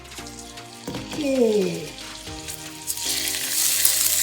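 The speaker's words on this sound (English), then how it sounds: "I have a boneless chicken here. So with this oil here, we're going to quickly saute this." Boneless chicken pieces sizzle and fry in hot oil in a pan while being sautéed, a steady crackling hiss that swells as more pieces go in, with clattering of utensils and a brief spoken word over it.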